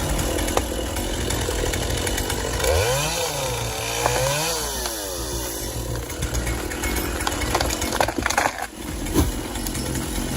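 A John Deere 959 KII feller buncher fitted with a Quadco 28C hot saw head cuts trees with a loud continuous mechanical roar, a rising and falling whine partway through, and a crunching crash near the end.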